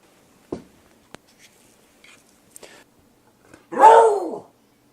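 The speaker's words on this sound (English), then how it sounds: "I wonder if you guys can hear my dog like coughing stuff up in the background." A few faint clicks and taps in a quiet room, then a single short, harsh cough-like hack from a dog nearby.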